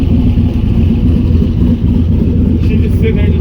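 An LS V8 idling in a garage, fitted with a water pump bypass block-off and no thermostat, gives a steady, loud, low rumble that holds level throughout with no revving.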